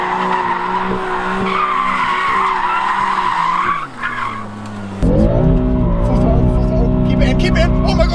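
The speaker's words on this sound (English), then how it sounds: "that's the sickest drift ever" A BMW M3 drifting, its engine revving hard and steady before a sharp gear change around the four-second mark, then a louder, rougher roar with tire screech as it slides; excited voices shout over the car.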